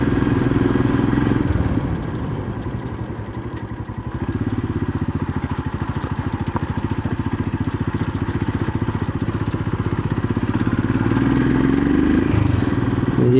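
A motorcycle rides slowly along a road on a trip from Thenkasi toward a temple in Kerala, its engine a steady, close low rumble with slight dips and rises in throttle, and no talking.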